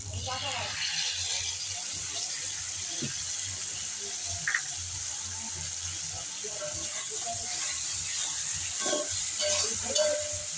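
Poppy seed paste added to softened tomatoes cooking in a pan for a drumstick and potato dish, a low continuous sizzle with occasional soft stirring clinks and a faint voice nearby.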